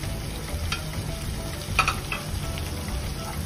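Turmeric and red chili powder being stirred into hot oil in a pan for dal makhani: a continuous close sizzle with a couple of sharper scraping spoon strokes, no voices.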